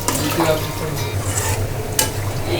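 Meat is stirred into a pan of roasting masala and fried onions, giving a steady sizzle with scraping spoon and clattering pot sounds up close and a sharp metallic knock near the end.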